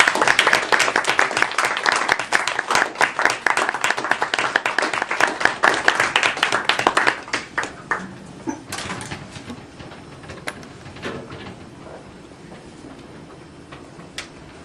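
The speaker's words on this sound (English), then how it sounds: "give her a round of applause" Applause from a Toastmasters club audience, dense and loud for about seven seconds, then thinning into scattered claps and fading out.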